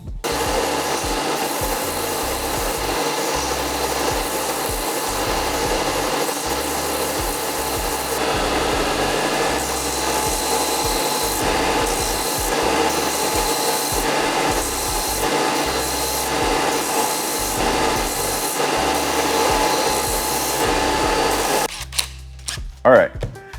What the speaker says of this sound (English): I'm gonna go and sand the pieces that I glued up